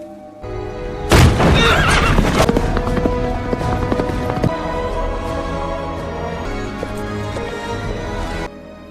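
A horse neighs loudly in a sudden burst about a second in, followed by a dense, sustained wash of sound that holds steady until it cuts off near the end; hoofbeats are not clearly distinct.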